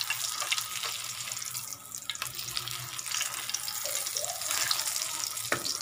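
Biscuit-coated chicken pieces for a zinger burger fry in oil, giving a dense continuous hiss and bubbling sizzle up close, with a few small clicks and no talking.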